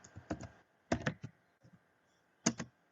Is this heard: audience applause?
no